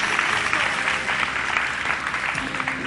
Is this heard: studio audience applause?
yes